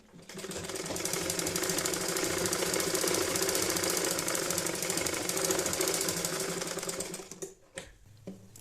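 Domestic sewing machine running steadily while stitching a cloth baby nappy (langoti), a loud continuous mechanical whir and rapid needle clatter for about seven seconds before it stops.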